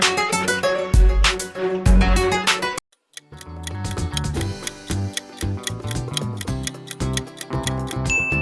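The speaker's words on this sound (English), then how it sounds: "Sharp thinking. It's Asus." An Asus mobile phone ringtone plays as a bright electronic melody of quick plucked and chiming notes. It breaks into near-silence briefly partway through, then carries on with a busier pattern of tones at moderate loudness, with no voices.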